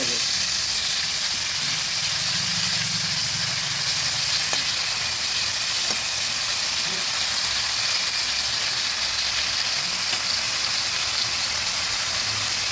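Shrimp frying lightly in a pan, giving a steady, even sizzle and hiss that holds unbroken throughout, loud and close, with a couple of faint clicks and no other sounds breaking through.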